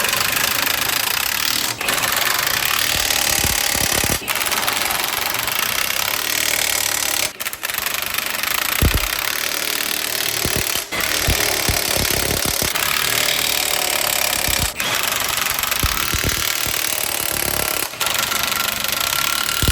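A power impact tool drives down the bolts on a truck brake spider during a spindle replacement in a shop, loud continuous buzzing broken by several short bursts and pauses.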